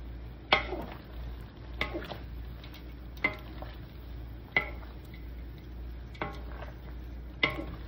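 Pancit canton noodles stirred in a pan with a utensil, giving about six sharp scraping strokes at a regular, unhurried pace over a soft low simmer.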